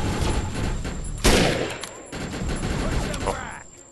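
Gunfire from a weapon in the sci-fi shooter game Defiance, a burst of shots cracking out with a sharp loud blast near the middle, set against steady background noise and game sound.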